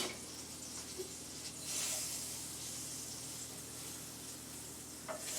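Butter melting in a cast iron skillet gives off a soft, steady sizzle and hiss at low level, with a brief louder burst of spitting midway and a light clink near the end.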